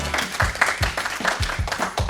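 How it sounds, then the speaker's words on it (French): A small audience at a French television quiz game claps for the arriving contestants, producing steady, somewhat sparse applause with distinct individual claps at moderate volume. "Un tonnerre d'applaudissements pour Hélène"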